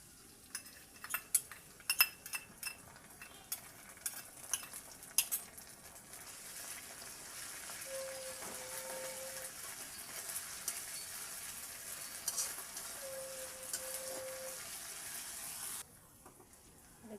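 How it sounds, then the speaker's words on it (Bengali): Masala with fried onion and ginger-garlic paste sizzles softly in a pan while a spoon scrapes and clinks against the metal, busier clatter early on, then a steadier low frying hiss. "পেঁয়াজটা আমার ভাজা ভাজা হয়ে গেছে, এর মধ্যে এবার মশলাটা আমি একটু কষে নেবো"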